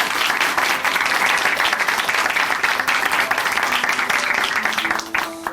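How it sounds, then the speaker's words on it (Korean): Loud, steady applause from a large church audience fills the whole stretch, dense clapping without pause. "저희가 박수로 응원해 드리겠습니다"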